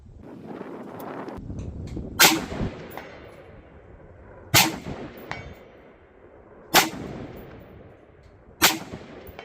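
Four sharp 5.56 rifle shots at an outdoor shooting range fired through a budget CVLIFE JackalHowl scope, spaced about two seconds apart, each a loud crack with a ringing metallic clang and decay.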